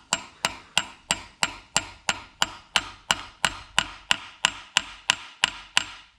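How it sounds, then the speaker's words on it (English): About seventeen light, evenly spaced hammer taps on an engine part being seated on a Ford 4.0L SOHC V6 during timing chain work, each a crisp close metallic knock, growing slightly sharper toward the end. "take our hammer, lightly tap, and you'll hear the noise change"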